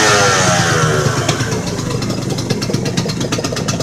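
A Modenas Dinamik 120 motorcycle engine warming up at idle, a close, loud, rough putter with rapid regular pulses and slight revving fluctuations, running alone without voices.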